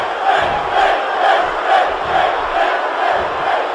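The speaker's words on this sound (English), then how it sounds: "And you can hear the crowd chanting for Finn Balor" Arena crowd in the WWE 2K19 wrestling video game chanting for a wrestler, a loud, rhythmic, repeated chant rising and falling roughly every half second across a dense roar of many voices.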